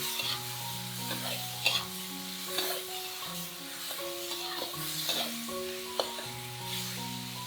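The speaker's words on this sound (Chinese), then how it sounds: "加盐、老抽、生抽， 翻炒均匀。" Pork and five-spice tofu are stir-fried with salt, dark and light soy sauce in a wok, with sizzling and repeated spatula scrapes and clacks in an uneven rhythm over soft melodic background music.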